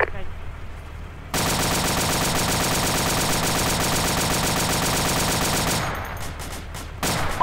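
Sustained bursts of M60 machine gun fire in a military shooter game, loud and continuous for several seconds before cutting off, then a few more shots near the end.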